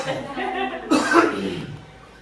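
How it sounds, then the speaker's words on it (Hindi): A couple of harsh, close coughs break out after some talking, followed by quieter voice. "खांसी नहीं जा रही है।"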